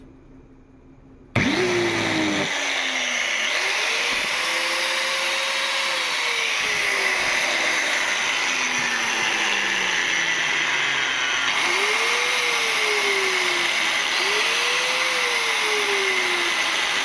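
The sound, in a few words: DeWalt 850 watt angle grinder running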